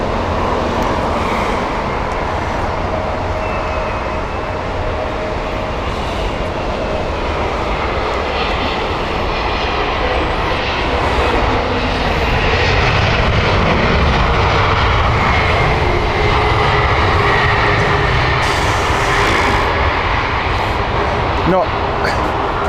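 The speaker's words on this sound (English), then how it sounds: "SAS is our next aircraft." An SAS passenger jet moves at Heathrow Airport with a continuous engine roar that grows slightly louder midway. People chat casually over the aircraft noise throughout.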